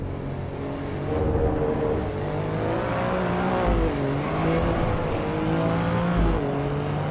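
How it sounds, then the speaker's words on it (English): An Alfa Romeo racing car engine in Assetto Corsa EVO drones and shifts pitch as it corners, with short bursts of tyre squeal breaking through the steady motor noise. "You can definitely hear the little bits of tyre squeal as I go around corners and floor it."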